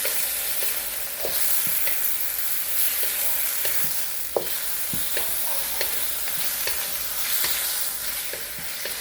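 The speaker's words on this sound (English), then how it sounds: "We'll add the white pepper. and we'll saute, stir fry." Pork sizzles loudly as it is stir-fried with white pepper in a hot pan while a utensil scrapes and stirs in irregular taps and clicks throughout.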